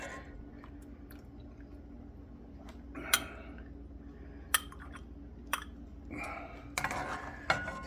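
Candied jalapeño rings being spooned into a glass jar, giving scattered clinks and sticky scrapes of a utensil against the jar and pot in a quiet kitchen, with several sharper taps near the end.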